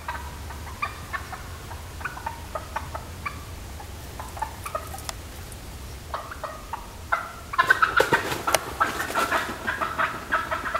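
Wild turkeys gobble repeatedly in bursts while a bobcat chases them, moderately close, with the calls growing louder and more crowded toward the end over a steady outdoor background.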